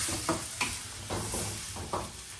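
Tomato and green chili frying in a pan with onion, a steady close sizzle broken by a few louder scraping stirs of a spoon, with no voices.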